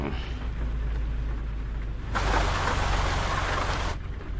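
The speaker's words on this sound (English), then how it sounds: "I wish this rain would stop, but that's okay." Steady rain in the American Truck Simulator driving game, a continuous hiss of falling water that swells noticeably louder for a couple of seconds before easing back, heard alone over a low engine rumble.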